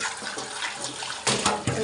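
Water is poured into a cooking pot before it is heated for boiling chow mein. A short, close, splashy gush of running water lasts about two seconds and grows louder near the end, with no voices.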